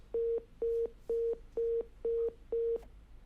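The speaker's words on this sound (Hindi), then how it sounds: "अनीता जी का फोन शायद डिस्कनेक्ट हो गया है।" After a phone call disconnects, the line gives a telephone disconnect tone: six short, identical beeps pulsing at a steady, even rhythm over faint line hiss.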